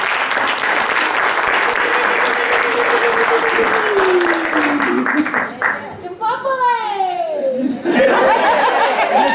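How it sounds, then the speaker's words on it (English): Applause from an awards ceremony audience, a loud dense clapping wash that fades midway as voices, chatter and laughter come through, then the clapping swells again near the end. "Can clap for them."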